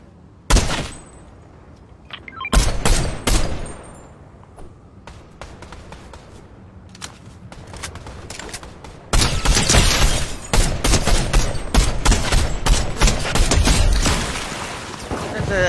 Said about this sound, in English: That's an Evo Chrome shotgun.